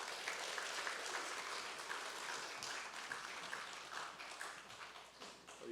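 A church congregation gives a steady round of applause at a Sunday service. The clapping is dense and even but faint and distant, and it carries on for about six seconds without a break.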